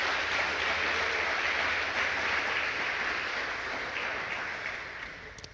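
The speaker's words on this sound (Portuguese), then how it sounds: "Vamos dar uma salva de palmas para quem está na live," Church congregation applauding during a service, a steady dense wash of clapping held for several seconds and gradually tapering off toward the end, no talk over it.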